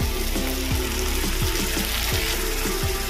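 Ginger-garlic paste and tomato paste fry hard in hot oil in a pan for Bengali boal fish tel jhal; loud, continuous close sizzle with a few rhythmic stirring scrapes, no talk.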